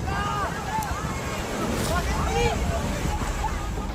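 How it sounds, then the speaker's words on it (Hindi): Fast floodwater rushes along a street during a sudden flash flood in Nogales, Mexico, making a steady, loud broadband roar with wind buffeting the microphone, while faint voices come through over the torrent. "सड़क पर पानी का बहाव इतना तेज है"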